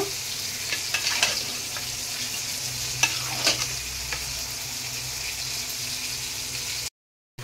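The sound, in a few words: stirring 5 kg mutton with spices in a pot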